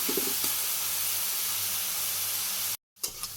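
Onions frying in hot oil in a home kitchen pan, a steady close hissing sizzle that cuts out abruptly near the end and then resumes briefly, with no talking.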